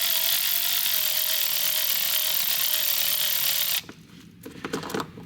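A ratchet with a 7mm socket backs off an intake pipe clamp on a 2022 Ford 6.7 diesel truck, giving a loud, fast continuous ratcheting whir that cuts off abruptly, followed by a few scattered clunks and handling sounds.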